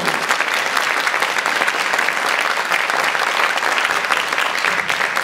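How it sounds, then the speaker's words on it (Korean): A church congregation at a Korean revival gathering bursts into loud, vigorous applause, a thick, sustained roar of many hands clapping close and full throughout, with no speech over it. "우리 힘찬 박수 한번."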